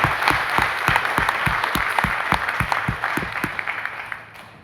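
A large seated audience at an indoor training event applauds loudly, with dense continuous clapping and sharp individual claps standing out, gradually thinning toward the end.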